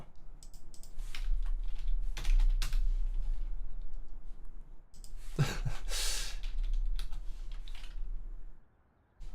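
Rapid typing on a computer keyboard during sim-racing commentary, close and steady clicking for most of the stretch with breathy sighs and a burst of noise midway, then a brief drop near the end.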